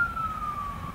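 An emergency vehicle siren sounds on Hollywood Boulevard, a single steady wailing tone gently falling in pitch over a low traffic rumble, moderately distant.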